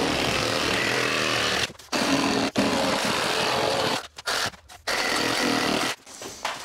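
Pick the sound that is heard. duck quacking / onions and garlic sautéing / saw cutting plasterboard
saw cutting plasterboard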